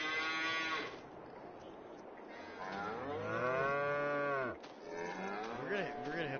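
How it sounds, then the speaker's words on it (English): Cattle in the farming video game Farmmit Inc. moo loudly and repeatedly, long drawn-out calls overlapping one another and filling the whole stretch, with a brief dip before the mooing swells again. "We're gonna leave the cows alone. Okay? They're really loud."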